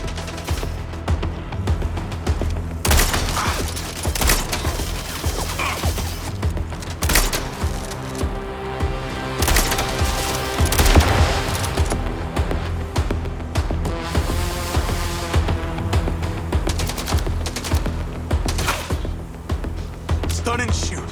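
Gunfire in the action game MindsEye, repeated sharp bursts and shots scattered across a long stretch over dense game sound and music, fairly loud throughout.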